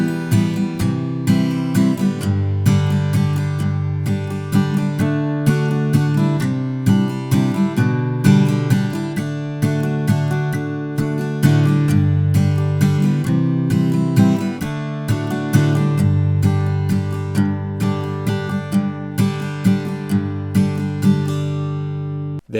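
Steady rhythmic strumming on guitar works through four lines of chords from an instrumental break in a song, each stroke bright and ringing, played alone without voices for over twenty seconds.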